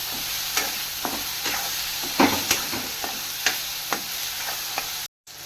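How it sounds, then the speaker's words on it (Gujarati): A utensil stirs boiled corn kernels and filling for a masala cheese sandwich in a hot pan, giving regular scraping taps over a soft steady sizzle. The sound is close, no one speaks, and it cuts out briefly near the end. "હવે આને પણ હલાવી દઈશું. સરખી રીતના બધું મિક્સ કરી દઈશું."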